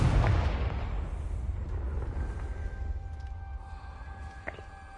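A Confringo spell blast from Hogwarts Legacy bursts as a deep, booming explosion right at the start, rolling off into a long rumbling decay with a faint shimmering ring underneath.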